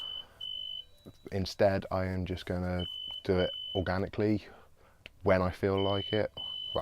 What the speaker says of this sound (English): sorry about the phone in the background.